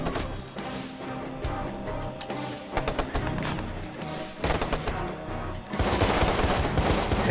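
Gunfire in Watch Dogs on PS3, with scattered sharp shots and quick bursts over a busy game backdrop, including a cluster of close cracks before a denser volley near the end.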